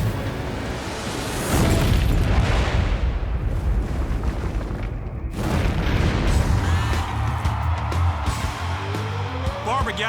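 A tanker truck explodes in a deep explosive roar, followed by a second heavy boom and a long rumbling aftermath, loud and sustained with crackling debris.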